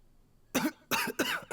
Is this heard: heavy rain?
no